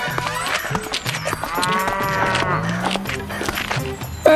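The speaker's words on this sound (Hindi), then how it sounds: "ये आवाज? एक भैंसा खेत में फसल चर रहा था।" Cartoon-story scene of a buffalo grazing crops in a farm field, with long, loud, low mooing calls that waver in pitch, accompanied by shuffling movement and a sharp knock at the end.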